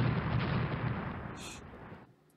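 Naval gunfire during a ship battle in the Rule the Waves strategy game, with a dense, rumbling barrage of booming shots that fills most of the moment before cutting off abruptly into near silence.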